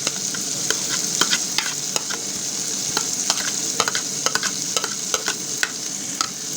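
Beetroot, grated carrots and green pepper stirred in a frying pan, a steady close sizzle broken by frequent sharp scraping and clinking strokes of the spoon, no talking.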